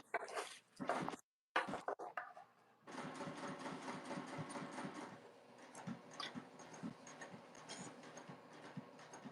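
A sewing machine running a basting stitch along the bottom of a tote bag, steady rapid needle chatter that runs for several seconds after a few short bursts and a brief gap, fairly faint and with no talking.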